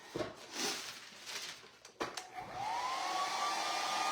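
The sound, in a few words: hair dryer blowing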